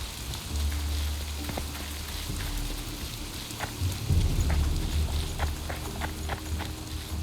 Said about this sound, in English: It is so heavy raining over here.